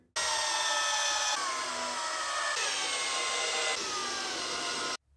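A power screwdriver drives screws to fix an IKEA Trones shoe cabinet to the wall, giving four back-to-back loud whirring bursts with slight pitch shifts, close up and with no talking.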